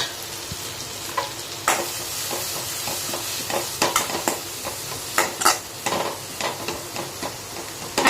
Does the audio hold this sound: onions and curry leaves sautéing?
yes